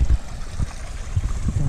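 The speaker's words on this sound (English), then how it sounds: "Got this stream here." Low, rushing flow of a green-tinted stream in a small wooded valley at Raccoon Creek State Park, loud and close, with a steady watery wash and occasional surges.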